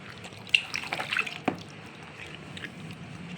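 Feet lowered into a basin of shampoo water make soft, close sloshes and a few small splashes, then settle into a faint trickle in a quiet room with no talk.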